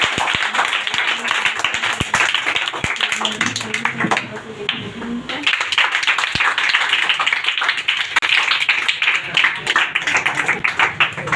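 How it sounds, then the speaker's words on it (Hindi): A gathered audience claps continuously, dense close applause with sharp individual claps running throughout, and voices talking over it. "इनके लिए एक महक के लिए ताली बजाइए, तो सर के लिए भी ताली बजाइए।"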